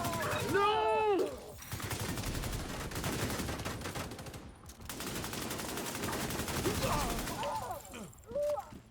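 Video game gunfire rattles in rapid, dense volleys of shots for most of the stretch, with brief electronic tones at the start and end.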